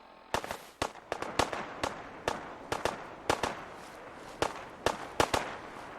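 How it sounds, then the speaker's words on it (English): Gunfire in a shooter video game comes as a string of sharp, loud single shots in irregular bursts of two or three, each a crisp crack over a quiet background, with no speech. "Where are they shooting from?"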